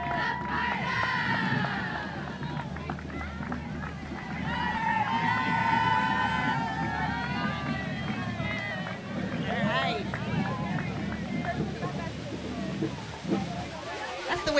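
Rancho Cucamonga High School cheer squad cheering and shouting at a Founders Day street parade, a loud lively crowd din with voices talking over it and no let-up.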